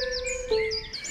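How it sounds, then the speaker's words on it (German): Little birds chirp in a string of short, bright tweets over a steady tonal background, heard close and clear with no voices, suggesting a spring song. "der Wunsch vom Herrn Anton in Erfüllung und die Vögelchen spielen sein"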